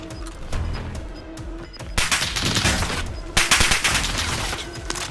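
Gunfire in a video game rattles in dense, overlapping bursts, building from steady shooting into heavier, louder volleys partway through, with no voices.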